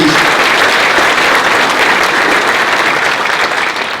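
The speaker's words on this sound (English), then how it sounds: "let's give them a big round of applause, all those honorees" Loud, full crowd applause at a Touchdown Club gathering for Razorbacks Hall of Honor inductees, continuous dense clapping close by that tapers slightly at the end.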